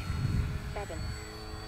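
A Scorpio Miss Bipe 1.08 m vintage RC biplane on its maiden flight makes a steady, fairly faint engine drone as it passes, with a short burst of voice partway through.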